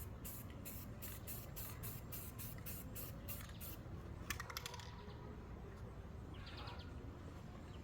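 Rapid short spray-can bursts lay light coats of paint over welds on a rust repair, close and even, followed by a steadier hiss, with faint birdsong in the background.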